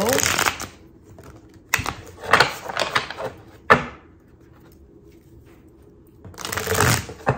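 Tarot cards are shuffled in several separate bursts of crisp riffling and flapping, close and fairly loud, with quiet pauses between them.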